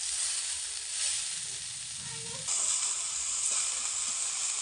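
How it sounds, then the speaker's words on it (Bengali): Cabbage and potato frying together in mustard oil in a pan, a steady hissing sizzle that runs throughout and grows a little louder partway through, with no talking. "আলুটা ভাজা হয়ে যাওয়ার পর কেটে রাখা কপিটাও একসাথে ভেজে নিতে হবে।"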